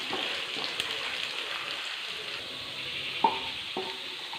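Grated coconut fries in a pan for a Kerala-style beef fry, giving a steady close hiss and sizzle with a few light scrapes and taps of a spoon stirring it.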